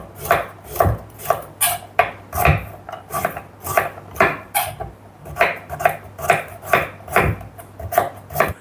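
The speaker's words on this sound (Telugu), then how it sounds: "ఇప్పుడు ఒక కొబ్బరికాయలో సగం కొబ్బరికాయని కట్ చేసుకుందాం." Knife chopping through half a coconut on a board in a home kitchen, a steady run of close, sharp hacking strokes about two per second, with no voice over them.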